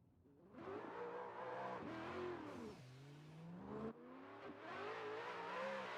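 A Mazda RX-7 race car drives a qualifying lap at a circuit, its engine rising and falling through gear changes, heard from a distance.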